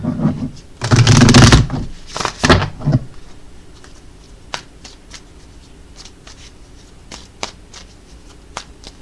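A handmade deck of cards gets shuffled in a loud, riffling flurry lasting about two seconds, followed by a few shorter shuffles, then sparse soft taps and card flicks in a quiet room.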